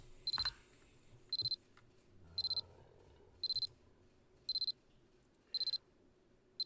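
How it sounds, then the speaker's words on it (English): Sudden beeping in the Ever17 video game: short, regularly spaced electronic beeps sounding about once a second, each a quick burst, over a faint low background hum. "I'm startled for a moment by the sudden beeping."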